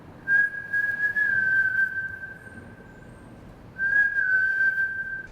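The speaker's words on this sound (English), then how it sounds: "I whistled a couple of notes, and I was just amazed by the sound in the bottom of the View Street Parkade" Whistled notes ring out in an underground parking garage, the View Street Parkade, as two clear sustained tones with a long gap between them, carried by the concrete space's reverberant echo.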